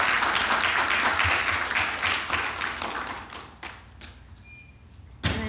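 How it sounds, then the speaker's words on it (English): Audience applause at a Native American Heritage Month lecture, a dense burst of clapping that gradually thins and fades, then a brief final flurry near the end. "Can we get another round of applause for Denisa?"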